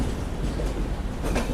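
The Tamil Nadu Express, train 12622, runs on the tracks after leaving Nagpur Junction, a steady, close rumble of wheels and carriage noise with faint rhythmic clatter and no talking.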